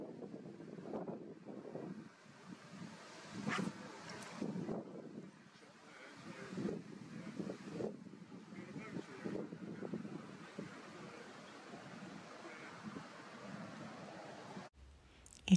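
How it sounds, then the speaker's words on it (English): Strong wind on a tidal river with boats mooring buffets the microphone in heavy, rumbling gusts, with faint water and boat noise underneath. "It is extremely windy today"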